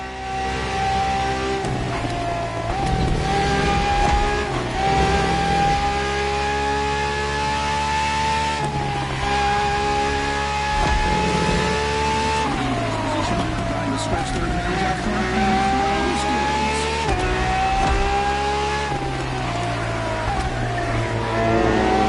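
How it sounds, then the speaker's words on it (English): A Ferrari FXX K track-only race car in a PS4 video game revs and accelerates, its engine note climbing through gears in repeated rising sweeps, loud and continuous beneath someone narrating. "A Ferrari so extreme that it can never be driven on the road, nor qualify for any kind of official competition."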